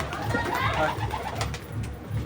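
Desi pigeons coo steadily at close range, soft throaty calls repeating over a low murmur of background noise.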